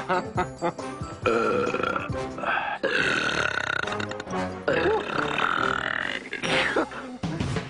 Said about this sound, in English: I think I'm going to burp.